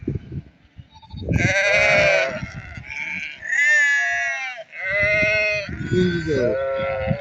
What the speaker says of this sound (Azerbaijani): Orada koyun var.